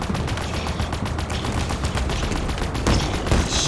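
Sustained rapid gunfire in the video game Halo Infinite, dense automatic bursts firing continuously and loudly, with a heavier shot near the end.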